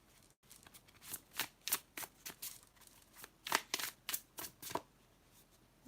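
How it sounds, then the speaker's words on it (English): Tarot cards being shuffled by hand, a close series of quick riffling bursts in an uneven rhythm, each a crisp papery flutter, with no talking. "I'm gonna do a little shuffle again."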